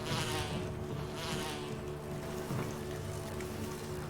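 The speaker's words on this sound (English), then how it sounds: "Oh, there's some bees." Bees drone in the Resident Evil video game, a soft, wavering buzz that swells and fades in several passes over a faint background.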